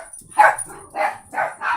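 A dog named Chloe barks indoors in three or four quick, moderately loud yips spaced under a second apart, with no talking over them.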